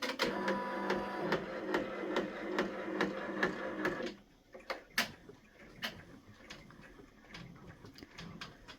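A Brother PR1055X embroidery machine stitches an outline at reduced speed, giving a steady rapid mechanical ticking hum for about four seconds, then stopping, followed by sparse clicks and taps nearby.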